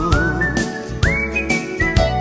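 A person whistles a short, wavering melody up close, the notes sliding and sustained, with a few soft thumps underneath.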